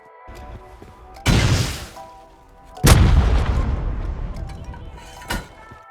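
Two heavy HV rocket blasts from the video game Rust, each a loud booming impact with a long rumbling tail, followed by a softer third thud near the end.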